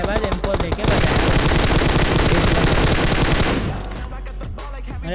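Sustained automatic fire from an M4 rifle in a video game, a dense, loud burst of rapid shots running for several seconds before easing into scattered trailing noise.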